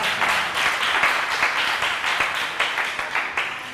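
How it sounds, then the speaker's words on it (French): A crowd applauds steadily at a university debating championship quarter-final, dense clapping that thins slightly toward the end. "Merci de les applaudir encore une fois."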